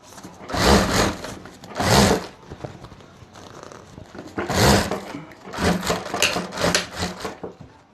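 A sewing machine stitches three handbag linings together, running in several whirring bursts of about a second each, separated by short pauses and quieter handling.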